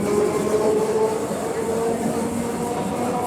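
A local train runs along with a steady rumbling rattle and faint squealing tones, continuous and fairly close, as though heard from on board, with no voices.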